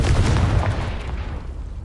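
A Confringo blasting spell from Hogwarts Legacy explodes with a heavy, rumbling boom that decays over roughly two seconds, loud and close.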